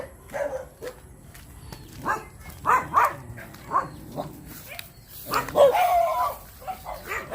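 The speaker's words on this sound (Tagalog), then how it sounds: "daming aso" Several dogs bark and yap repeatedly at a distance, overlapping in irregular bursts, with a louder cluster of barks near the end.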